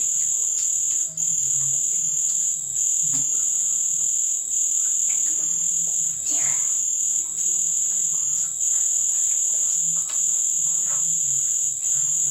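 Crickets and other insects chirp outdoors in a constant high, dense trilling that runs the whole clip, with faint scattered low sounds beneath.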